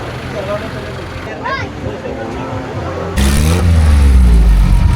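A 4x4 off-road vehicle at an off-road challenge in Pasig, Porac revs its engine through the muffler, a low throaty roar that swells loudly in the final seconds after a stretch of nearby chatter and background noise.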